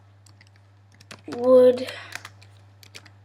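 Keys clatter on a computer keyboard during a Nitro Type typing race: quick, irregular close clicks with a brief spoken word in the middle.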